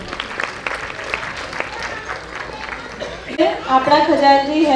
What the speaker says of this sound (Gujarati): આવી વિશિષ્ટ સિદ્ધિઓ માટે તો તાળીઓ થવી જ જોઈએ